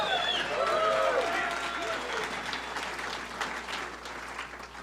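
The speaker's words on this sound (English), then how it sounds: "Yeah, clap it up for him." A crowd gives sustained applause at the introduction of Deion Sanders as the new CU head coach, the dense clapping loudest at first and slowly thinning, with cheering and a voice over it.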